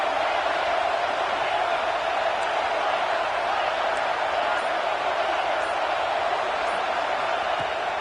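A college football video game stadium crowd from a Tulane vs Oregon matchup roars as a steady, loud, dense wash of noise that never lets up across the whole stretch.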